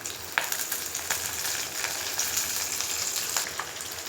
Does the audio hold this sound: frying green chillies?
yes